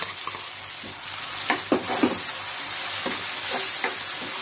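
Eggplant bharta frying in a pan as chopped tomatoes go in, with a steady broadband sizzle and a few louder stirring scrapes and clatters near the middle; no voices.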